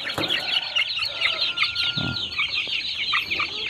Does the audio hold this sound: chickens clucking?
yes